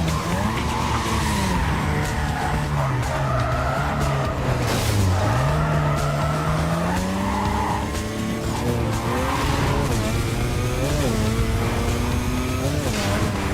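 Tires squealing steadily as a car drifts in NFS Carbon Redux, the wailing pitch rising and falling over a loud, continuous engine roar that runs without a break.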